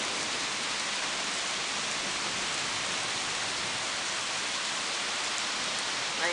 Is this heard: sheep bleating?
no